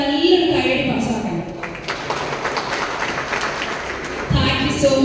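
Guests at a company dealer meet in a backwaters hotel resort break into a round of applause. The clapping swells through the middle for a few seconds, bracketed by a man's speech before and after.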